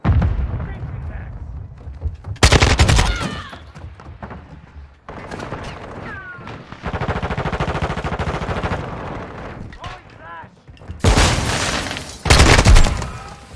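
Rapid automatic gunfire and sharp shots from a Modern Warfare 2 multiplayer match, loud close bursts interrupting quieter stretches of distant firing and game noise, with a voice talking in between.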